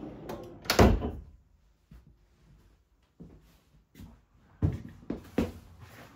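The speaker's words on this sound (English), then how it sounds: "Little drawer here." A small wooden drawer in a custom-built truck camper is opened and shut several times, giving sharp close knocks and slides, one loud bang near the start and a cluster of clacks toward the end.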